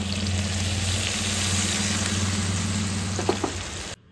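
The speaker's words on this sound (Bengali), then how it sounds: "তো এবার অল্প একটু পরিমাণে জল দেব।" Water poured into a pan of cooking poppy seed and mustard paste, a loud steady sizzle and bubbling hiss over a low hum, a couple of clinks near the end before it cuts off.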